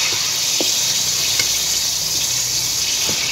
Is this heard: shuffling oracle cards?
no